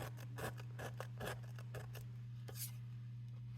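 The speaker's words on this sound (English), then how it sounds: "Mary, don't cut the paperboard." Scissors snipping paperboard in a series of short, close cuts over a steady low hum, with the snips spaced unevenly and growing sparser toward the end.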